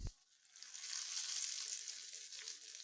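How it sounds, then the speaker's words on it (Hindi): After a brief thump, hot oil tempering with red chilli is poured onto cooked lentils and sizzles and crackles steadily, a soft hiss lasting a few seconds. "गरम तड़का दाल पर लगाएंगे।"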